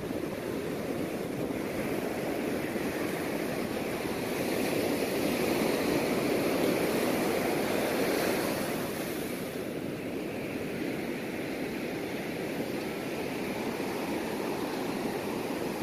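Sea surf rolling onto a shore in Vietnam, a steady broad wash with wind noise, swelling louder midway and easing after, with no voices.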